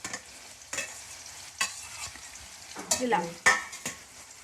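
Vankaya pachadi, a Telugu brinjal chutney mixture, stirred in a pan with a spoon, giving several scraping, sizzling strokes at an irregular rhythm, close and moderately loud, with a brief word spoken over it.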